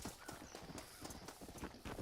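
Horse hooves clip-clop in a quick, steady rhythm within a Western video game, close and continuous over a dense background bed.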